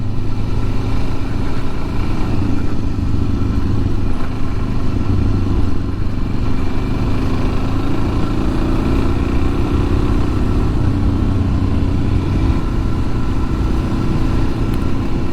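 A Suzuki DRZ400 motorcycle on the move, a constant close engine hum with a low throbbing exhaust note holding steady the whole time, some mechanical clatter mixed in and no voices.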